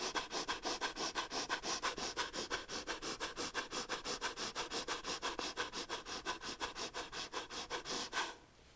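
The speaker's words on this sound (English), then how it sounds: "rapid inhales and exhales. So through the nose, nice and quick, like you're blowing out a candle with your nose" Rapid, forceful breaths pumped in and out through the nose during a yoga flow, a fast even rhythm of sharp sniffing bursts, close and loud, ending abruptly near the close.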